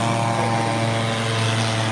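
A paramotor engine roars at an ultralight field, a loud, steady propeller drone with a buzzing tonal hum that stays close and constant with no letup.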